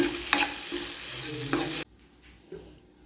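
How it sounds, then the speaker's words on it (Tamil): Masala for Dindigul-style chicken biryani stirred in a pan with a spoon, making a few loud scraping strokes over a steady frying sizzle, then a sudden drop to a quieter simmer with one more soft scrape. "இடைக்கு இடைக்கு எடுத்து நல்லா கிளறி விடுங்க"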